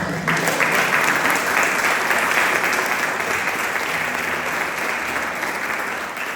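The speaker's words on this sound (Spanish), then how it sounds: "Denle un fuerte aplauso." A church audience breaks into loud, sustained applause, a dense wash of many hands clapping steadily throughout with no voices standing out.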